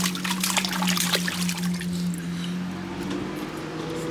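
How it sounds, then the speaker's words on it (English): Water splashing in a baby pool, a loud wet churning and trickling that runs continuously over a low steady hum, with no speech heard. "Splash, splash, splash."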